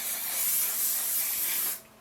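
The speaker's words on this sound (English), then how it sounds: "We give it a little spray" A single continuous hiss of hair spray from an aerosol can, close and steady for almost two seconds, then cutting off abruptly.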